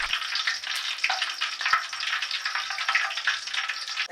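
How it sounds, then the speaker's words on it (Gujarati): Green chillies fry in hot oil with a steady, close sizzle and crackle that runs unbroken throughout, with no voices. "એકદમ મરચાં આપણે નહીં તળી નાખીએ"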